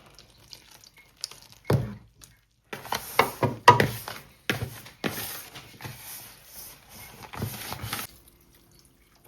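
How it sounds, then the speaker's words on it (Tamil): Milk and water poured bit by bit into dough being kneaded by hand in a home kitchen, heard as quiet, intermittent wet splashes, drips and squelching stirs with short silent gaps between. "பாலும் தண்ணியும் கொஞ்சம் கொஞ்சம் விட்டுட்டே இருப்போம்."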